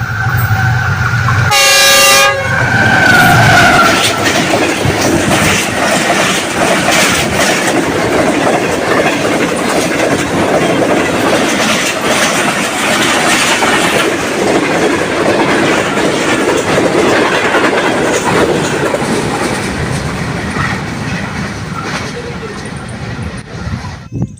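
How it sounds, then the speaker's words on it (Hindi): The 42 Down Karakoram Express passes Makhdoompur railway station, opening with a short loud horn toot and then a long, loud rush of wheels clattering over the rails that fades slightly toward the end. "42 down Karakoram express crossing Makhdumpur railway station."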